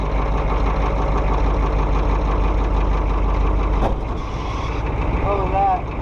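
Truck engine running steadily after a cold start, a loud continuous low rumble that holds throughout, with a brief dip near the end and faint higher tones over it.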